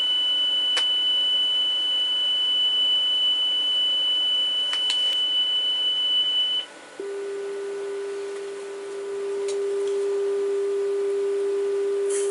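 A steady 3 kHz test tone plays from mid-reel on cassette through a Technics RS-M5 cassette deck under repair, holding constant for about six seconds before a brief dropout and a switch to a lower continuous tone.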